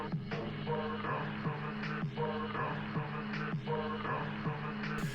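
Chopped Memphis rap sample, dense and gritty, looping in a steady repeating pattern with regular rhythmic cuts, heard on its own with no talking.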